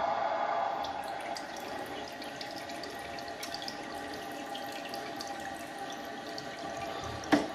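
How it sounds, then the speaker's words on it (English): Water steadily hisses and trickles into a toilet cistern close by, a continuous filling sound with a soft clunk at the end. "So the water is just about to come up to the bottom of the float now."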